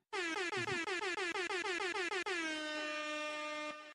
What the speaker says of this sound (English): That might have been one too many air horns